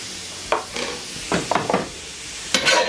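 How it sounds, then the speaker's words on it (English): Rice being stirred in a hot frying pan for a single-serving fried rice, several sharp scraping strokes over a continuous close sizzle, a cluster of quick stirs midway and a louder one near the end. "We're gonna give this a stir"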